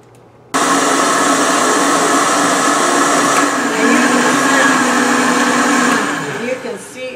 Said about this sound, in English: Now we're going to go ahead and blend.